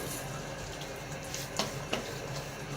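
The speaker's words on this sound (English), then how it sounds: "Get my face a little wet before the shave" Tap water running into a sink as a face is wetted before a shave, a soft continuous splashing wash with a couple of faint clicks or drips, close and quiet.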